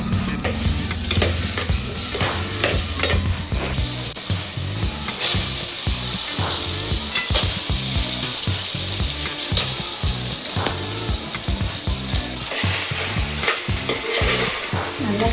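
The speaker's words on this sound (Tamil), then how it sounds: "நல்லா கிளறி விடணும்." Crab curry with tomato and salt fries loudly in a pan as it is stirred, with a steady bright sizzle broken by repeated scraping strokes of the spoon in a quick, uneven rhythm, close and continuous throughout.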